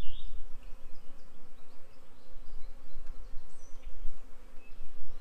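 A steady, dense buzz of many honey bees in a hive during a queen installation hums continuously at moderate volume, with no voices.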